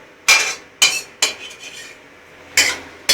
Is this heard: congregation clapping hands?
no